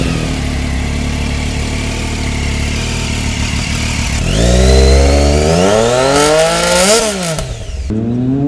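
An inline-triple motorcycle engine like the Yamaha FZ09's idles with an uneven exhaust burble, then revs up and down in rising and falling sweeps before settling, loud and close with no talk.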